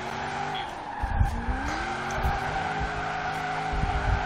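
A Viper in Forza Horizon 4 roars steadily while tires skid and squeal through a long drift in winter, with a few louder bursts of skidding along the way.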